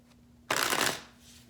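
A deck of tarot cards is shuffled in one quick, crisp riffle that ends in a short rustle, close and alone.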